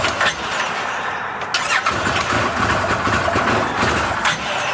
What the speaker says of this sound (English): This is an X, so it's going to have a real lopey sound to it because a little hotter cams.